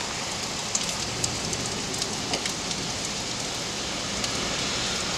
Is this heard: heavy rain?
yes